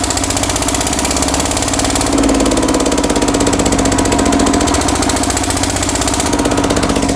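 A Kirloskar 7.5 kVA generator engine running at high revs, a loud, steady, close-up drone with continuous rhythmic thumping and vibration and no pauses.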